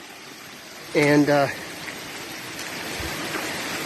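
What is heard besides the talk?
water rushing down a waterfall on a trail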